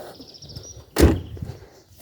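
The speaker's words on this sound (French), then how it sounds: "On va juste fermer la porte." A car door shuts once with a single solid thud at a garage where a Clio 3 phase 2 1.5 dCi is readied for an oil change, preceded by faint background hum.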